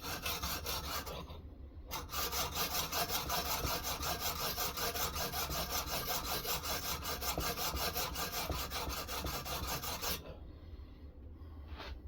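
Knife-sharpening stone grinding against a metal clamp during sharpening, a continuous loud rasping scrape in rapid back-and-forth strokes with brief pauses near the start and end.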